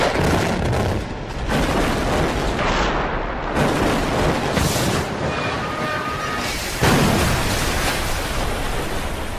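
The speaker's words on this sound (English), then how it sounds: "An explosion could damage the neighboring bridges." A huge blast demolishes a bridge with a sustained, roaring boom full of rumble and crackle, swelling again in a few separate surges and filling the whole stretch at high volume.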